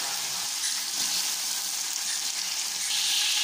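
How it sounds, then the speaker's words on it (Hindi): Tomatoes and long-cut green chilies fry in a pan for chicken biryani, giving a close, steady sizzle with a faint stirring texture and no talk. "दो से तीन मिनट तक इसे अच्छी तरह फ्राई करेंगे"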